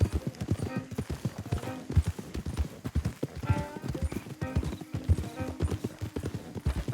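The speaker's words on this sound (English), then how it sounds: "Don't want the horses clopping around outside the window" Horse hooves clopping in Red Dead Redemption 2, several horses walking with a brisk, uneven rhythm of hoof strikes, fairly close, with a brief whinny and game voices speaking beneath.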